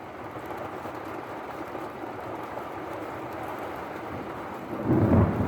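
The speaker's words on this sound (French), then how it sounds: "juste à temps pour me protéger d'un orage plutôt violent" A violent thunderstorm: steady heavy rain hisses throughout, and near the end a deep, loud rumble of thunder swells up close.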